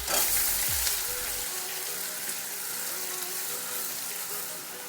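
Ground spice paste hits hot oil with cardamom and clove tempering for a Bengali omelette curry, starting as a loud burst of sizzle and then settling into a steady, close frying hiss.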